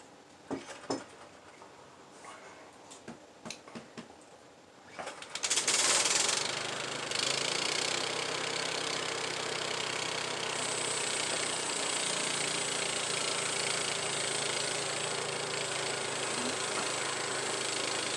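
A Harbor Freight sawmill's engine starts after a few scattered knocks and clatters, then runs at a loud, steady idle-like drone close by for the rest of the time, with no talk over it.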